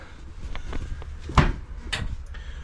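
Soft-close cabinet doors in a Forest River RV at a Florida RV show shut with muffled, cushioned thuds, one firmer knock midway and a softer one after, amid light room noise.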